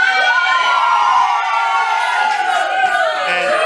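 Students and audience at a school event cheering loudly, sustained high-pitched shouts and whoops from many voices, close and dense, without distinct clapping.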